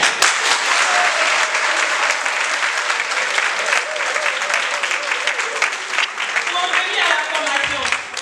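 Applause from a gathered audience in a village in Tiassalé, honouring a man who helps the women, sustained and fairly loud for the whole stretch, with a few voices mixed in.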